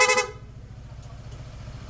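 A brief aftermarket PIA horn blast on a Honda ADV160 scooter right at the start, loud and bright, then it cuts off leaving a steady low engine idle underneath.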